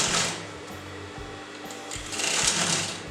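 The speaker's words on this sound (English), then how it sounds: "just fold that in half and you're going to sew that on top" A sewing machine runs in a steady, close mechanical whir while stitching folded kalamkari fabric for a kurta neckline, the motor speeding up briefly near the end.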